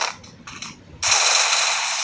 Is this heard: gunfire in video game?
yes